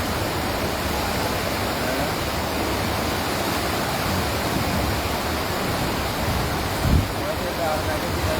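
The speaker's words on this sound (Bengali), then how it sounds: "দেখছেন কি স্রোত" Strong river current rushes at the Muhuri project in Feni, Bangladesh, a loud, constant broadband roar of flowing water with one brief low thump near the end.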